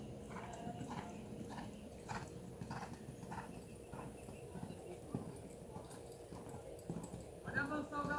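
A horse's hooves beat out a steady rhythmic clip-clop through a riding training session, with other voices speaking quietly under the hoofbeats.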